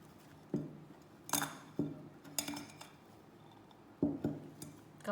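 Utensils clink against a bowl while a bean salad with onions, tomatoes and tofu is tossed together, a handful of sharp knocks and scrapes spaced irregularly over a quiet, close background.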